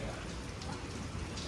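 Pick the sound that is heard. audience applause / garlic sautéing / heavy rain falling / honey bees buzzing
heavy rain falling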